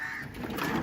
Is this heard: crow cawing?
yes